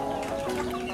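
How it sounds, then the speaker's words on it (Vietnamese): Chickens in a backyard garden clucking close by, a dense, steady murmur of overlapping clucks for about a second. "Rảnh rỗi quay gà vịt sau vườn cho anh em xem"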